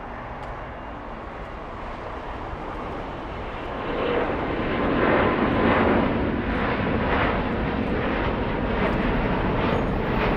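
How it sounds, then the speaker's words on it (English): A Turkish Airlines Airbus A350 departs LAX bound for Istanbul: a broad, steady jet engine roar that swells louder about four seconds in and stays strong and close through the end, with no talking. "Let's go for Turkish, the A350 flying back"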